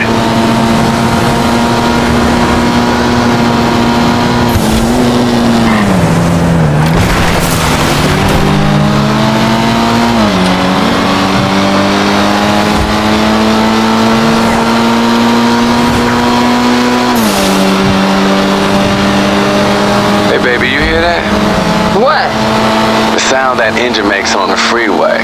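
A car engine in GTA Online revs and holds steady on a freeway, its pitch rising and dipping through gear changes, loud and continuous for the whole stretch.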